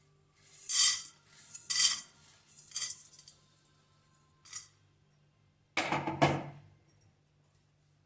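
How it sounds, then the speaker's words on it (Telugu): Chana dal and urad dal dry-roasted in a pan: scattered scraping and clinking of a spoon against the pan, in a few louder stirring bursts with softer gaps between them. No one talks. "ఫస్ట్ శనగపప్పు మినపప్పు ఫ్రై చేసుకుంటున్నాం అండి."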